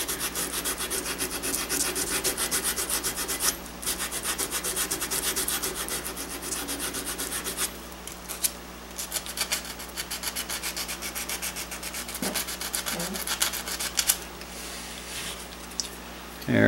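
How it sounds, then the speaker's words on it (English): Abrasive scuffing inside a gun barrel tenon before soldering, a dry rasping rub repeated in short back-and-forth strokes over a steady shop hum. "And just scuff up the inside of your tenon."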